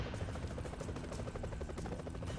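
Helicopter in the game BroForce, a steady chopping rotor drone with rapid rhythmic pulses that hold constant and fairly loud throughout.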